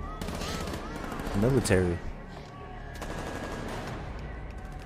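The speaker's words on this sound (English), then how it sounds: "Who are they shooting at?" Gunfire from an episode of The Last of Us TV series rattles in rapid bursts of automatic shots, heard under people talking, with dialogue between the volleys.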